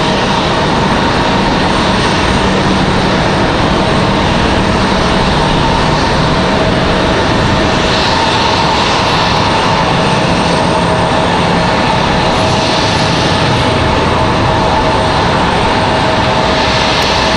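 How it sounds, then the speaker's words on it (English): A heavy jet airliner departs Raleigh-Durham International Airport, its engines a loud, steady, broadband roar that fills the whole stretch, heard from an outdoor spotting position with no talking. "You guys enjoy the heavy departure."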